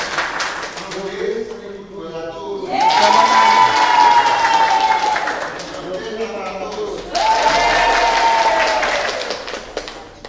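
Applause for a team at a women's church group Bible quiz contest, two bursts of crowd clapping separated by talk, with voices audible over and between the claps.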